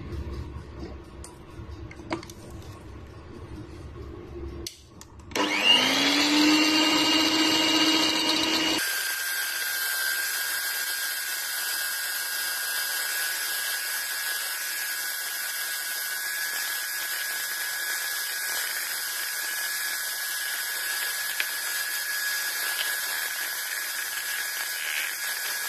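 A handheld electric mixer whirs into a steady high whine while beating eight egg yolks with cooking oil and orange juice for chiffon cake. It starts after a few seconds of quiet kitchen sounds and keeps running at an even pitch.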